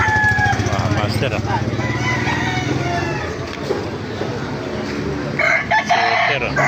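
Young SBR gamefowl roosters, about five months old, crow loudly and close by. One long harmonic crow opens the clip, and more crowing and clucking follow near the end.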